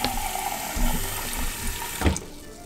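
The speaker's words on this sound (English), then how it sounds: "We need to put a cup of water in it." Tap water runs from a kitchen sink faucet into a cup to be added to a cake mix, a steady close splashing stream with a brief clunk near the end before it cuts off.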